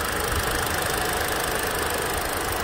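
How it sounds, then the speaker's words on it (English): A misfiring, shaking Hyundai Elantra SE engine gives a constant rough, close running drone with a faint uneven knock throughout. "notice your engine start to shake like that while driving and notice it's missing"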